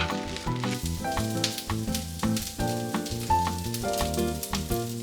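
Cabbage sizzling steadily in a hot pan, a continuous crackling fry heard alone under light background music.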